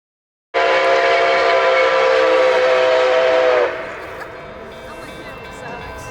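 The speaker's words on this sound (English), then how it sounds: "So the steam coming out the cylinders now is on purpose." A Nickel Plate steam locomotive blasts steam from its cylinders with a loud, continuous hiss that starts abruptly, holds for about three seconds, then drops to a softer, lingering rush of escaping steam.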